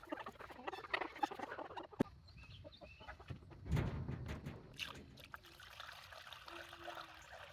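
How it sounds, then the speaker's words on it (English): Skim milk is tipped out for chickens, giving a soft splashing trickle and patter that swells briefly in the middle, while hens cluck and scratch nearby throughout, fairly faint and with no talking. "Now that I've dumped this milk into the chickens"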